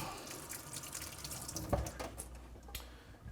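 Tap water runs over a peeled onion as it is rinsed in a kitchen sink, a steady close splashing with a brief louder knock partway through.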